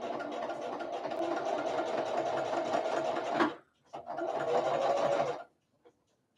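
A sewing machine stitches a bag seam in two loud, steady runs of rapid mechanical whirring, a brief pause between them, ending in quiet.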